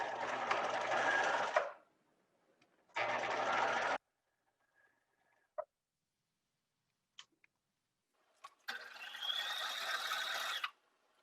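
A sewing machine stitches down a waistband in three loud whirring bursts separated by pauses, with small clicks and ticks from the mechanism and fabric handling in between.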